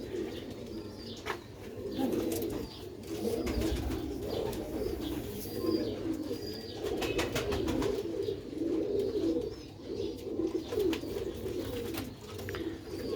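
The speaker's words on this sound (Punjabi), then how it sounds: "ਚਕੰਨੇ ਪੂਰੇ ਕਬੂਤਰ ਨੇ" Pigeons cooing continuously in a loft, a dense warm chorus of overlapping low coos with occasional chirps and soft wing flutters, fairly close.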